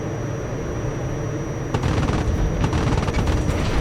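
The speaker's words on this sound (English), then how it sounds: "That was some nice explosions there. Some more there." In the IL-2 Korea combat flight game, an IL-10 attack run brings a rumbling engine drone, then rapid bursts of gunfire and booming explosions that crackle repeatedly over the last two seconds.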